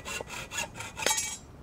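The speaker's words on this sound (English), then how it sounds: "And then you cut it and file the ends." Metal file rasping across the cut end of 1-inch aluminum flat stock, a few quick scraping strokes close by with a brighter metallic scrape near the end, no talk.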